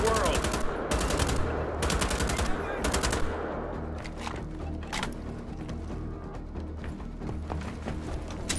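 Gunfire in the video game Wolfenstein: The Old Blood, rapid bursts of automatic shots in quick succession, then scattered single shots, under a steady background rumble.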